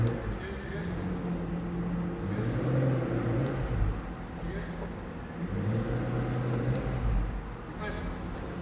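Expensive car engine idling and revving as it drives out of a garage, a low rumbling drone rising and falling in surges, fairly close, with a person talking over it.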